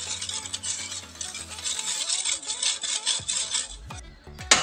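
A spoon scrapes and swirls steadily through caramel pudding mixture in a pot on the stove, a continuous close rasping rub with faint sizzle, no voices.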